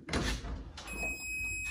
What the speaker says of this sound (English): Open the door, light goes on.